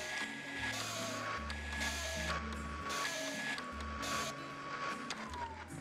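A bakery dough mixer runs in the Bakery Simulator video game, giving a steady, close mechanical whir with tonal hum and a few shifting layers.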